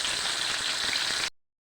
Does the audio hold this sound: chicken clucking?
no